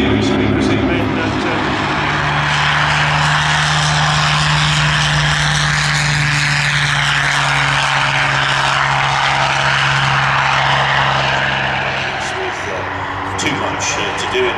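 A propeller-driven training aircraft flies at an evening airshow at Shuttleworth, its steady engine drone loud and continuous throughout, with a commentator talking over it.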